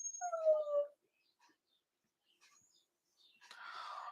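A dog gives a short, high whimper up close, then falls quiet before soft breathy noise and faint whispering or rustling follow.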